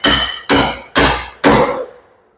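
Four heavy hammer blows strike the hinge of an old cast iron window with a brass pin, each a loud, sharp impact ringing out about half a second apart, with no talking.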